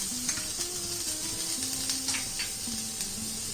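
Crushed garlic frying in oil on a tawa for prawn tawa masala gives a steady close sizzle and hiss, with faint clinks of a utensil running under it throughout and no talking.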